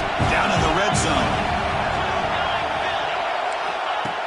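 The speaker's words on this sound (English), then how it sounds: "the crowd coming to life here, trying to help this defense down in the red zone" A college football stadium crowd at a Michigan State versus Missouri game roars to back the defense in the red zone, a broad sustained wash of cheering and shouting heard under a commentator's voice.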